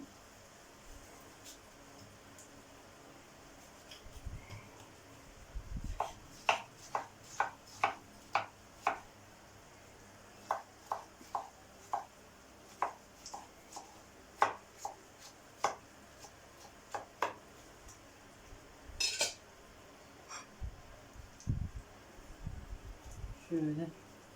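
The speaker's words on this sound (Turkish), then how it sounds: "Domatesi içine doğrayacaksın değil mi Sevil?" Tomatoes chopped on a board in a kitchen while preparing a griddle-pan kavurma, about a dozen crisp knife taps in irregular bursts, close and fairly quiet, with a few low thumps and faint background hum.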